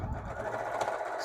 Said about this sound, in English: Couple stitches, back stitch a couple times